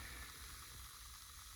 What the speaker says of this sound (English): See it's sizzling?